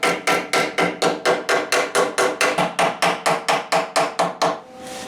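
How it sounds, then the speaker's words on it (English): A hammer pounds a metal lip flat in a Toyota AE86 engine bay being shaved and seam welded. About fifteen sharp, evenly spaced, ringing strikes fall in quick steady rhythm, close and loud, then stop. "Let's take a hammer and kind of hammer this little lip flat just a little bit."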